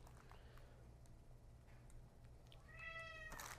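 A pet cat meows a couple of times near a doorway late in the moment, short rising cries over a quiet room hum.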